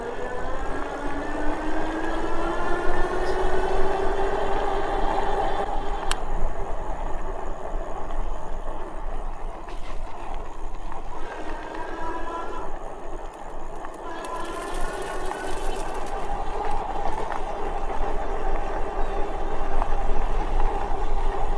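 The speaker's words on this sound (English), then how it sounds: "now let's go throttle only, both motors." A Eunorau AWD fat-tire e-bike runs on throttle alone with both motors driving, giving a rising electric whine that climbs in pitch, levels off and climbs again over steady rolling and wind noise.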